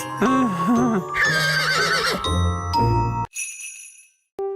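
A cartoon unicorn neighs with a loud, wavering whinny, followed by bright jingling, chiming and tinkling sound effects, with no talking.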